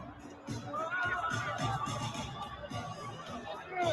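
A big stadium crowd at a football match, with stuffed animals thrown onto the field, makes a steady, loud roar and babble of many voices throughout, swelling slightly at the end.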